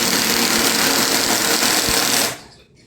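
Power drill driving star head screws into a board, a loud steady high-pitched motor whir running continuously, then cutting off abruptly near the end.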